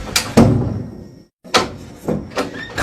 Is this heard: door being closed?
yes